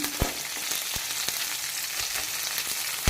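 Chili, ginger and garlic sizzle and crackle in hot oil in a pan for vegetable pulao, a close, continuous frying hiss broken by a few sharp spatters.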